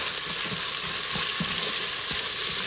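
Onions frying in a pan with salt for a masala dosa filling give a steady, close, broadband sizzle, with a few soft stirring knocks scattered through it.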